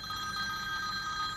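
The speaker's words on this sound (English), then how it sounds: "Oh, my phone's ringing." A telephone rings with a steady electronic bell tone, continuous and fairly quiet over a low background rumble, with no voices.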